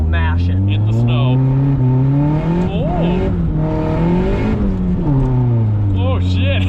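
A turbocharged Honda Civic accelerates hard in second gear through snow, its loud engine note climbing and surging steadily up close with exhaust whoosh, while a voice talks over it.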